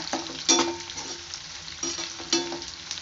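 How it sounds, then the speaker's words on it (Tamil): Black sesame seeds fry in hot oil for pirandai chutney, giving a soft, steady sizzle with a few louder stirring scrapes close by and no talking. "இது எள்ளு கருப்பு எள்ளு கருப்பு எள்ளு போடுறோம் இது பொரியணும்னு அவசியம் இல்லை"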